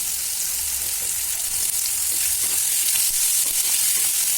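Dried anchovies fry in a pan under a dense, continuous, fairly loud crackling sizzle, with soft stirring movements running through it.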